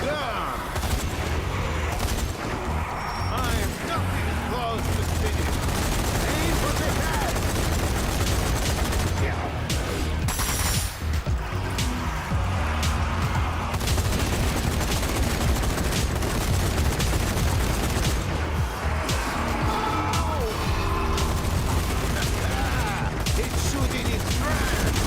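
Dual MG34 machine guns fire in Zombie Army 4 in a Venice setting, a dense, loud, continuous wall of rapid gunfire and battle noise that runs almost without pause, with heavy low rumble throughout.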